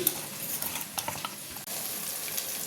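Fish being stirred in a pan with oil, salt and chili, a soft wet scraping and faint sizzle with irregular stirring strokes, close and fairly quiet, no talk.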